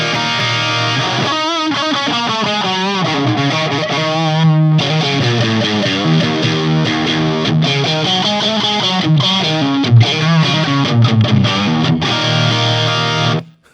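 Loud, driven electric guitar passes through a Tone INK Gambit booster pedal into a JCM amp, mixing held distorted chords with fast picked melodic runs and bends, ending with a sudden stop.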